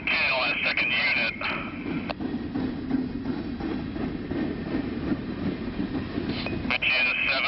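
Empty coal train rolling past a halted freight train, a steady rumble of wheels and rail clatter held at moderate distance, with a scanner-like radio voice crackling over it in short bursts.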